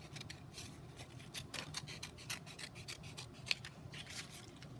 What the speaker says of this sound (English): So you're going to cut out your circle.